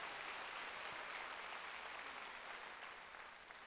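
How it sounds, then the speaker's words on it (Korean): Congregation clapping during a Sunday church service, a broad, even patter of many hands heard from some distance, fairly quiet and sustained throughout. "박수 하나 더 해주세요."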